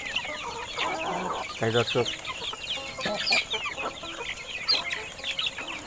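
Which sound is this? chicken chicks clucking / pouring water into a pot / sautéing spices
chicken chicks clucking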